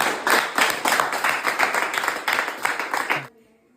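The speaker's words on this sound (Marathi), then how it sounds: "एकदा टाळ्या वाजवा" A group claps together in a steady burst of applause for about three seconds, then it stops abruptly.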